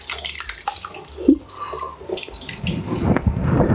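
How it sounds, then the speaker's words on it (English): Thick pasta sauce being poured and splattered into a baking dish for baked pasta alla Norma, a wet glugging and slopping that builds toward the end, close and fairly loud. "we're gonna add in the pasta sauce,"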